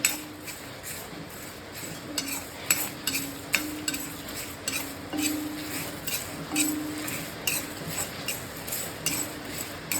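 Dried curry leaves and spices roast in a dry pan, with a spatula clinking and scraping against the metal in irregular strokes over a faint, low sizzle.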